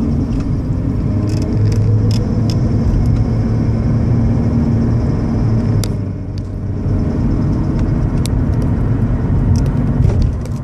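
2001 Mercury Cougar accelerating from inside the cabin, a loud steady engine drone that dips briefly midway as a gear shifts, then carries on with road rumble and light rattles.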